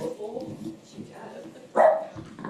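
A puppy gives one sharp, close bark while people talk quietly in the background of an indoor gathering.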